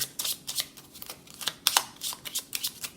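A deck of tarot cards is shuffled for an extra card, producing a quick run of crisp riffling flutters and taps, close and clear, with no speech.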